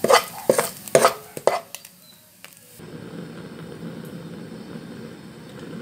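A spatula scrapes golden, fluffy stir-fried salted fish from a pan onto a plate: a few sharp clinks and scrapes over about three seconds, then a steady background hum of kitchen noise with no talking.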